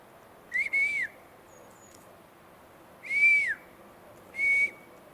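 Three sharp dog-training whistle blasts ring out during an outdoor session with a dog, the first a quick double pip, then two longer rising-and-falling tones, each clear and close over a low background hush.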